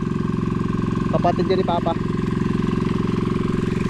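A fishing boat engine idles with a steady, rapid chugging throb while someone speaks briefly over it.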